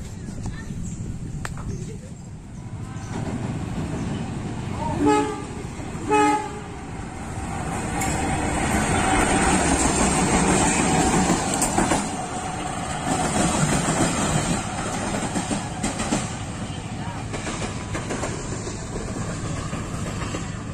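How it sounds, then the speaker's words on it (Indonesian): A train rumbles past with a couple of short horn blasts, then a long stretch of loud rolling wheel noise with rhythmic clatter as the wheels cross a railway junction near Angke station. "Kita akan melihat langsung ya proses roda kereta saat melintasi persilangan ini."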